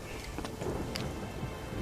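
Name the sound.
thunderstorm in the video game Witcher 3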